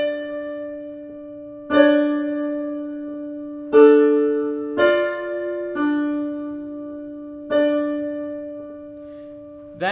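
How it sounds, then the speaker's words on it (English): Two sustained sung choir parts, soprano high and tenor low, in Estonian choral style, moving through a few measures with fresh note onsets every second or two, no talking. "So I'll play just the first few measures of the soprano and tenor parts."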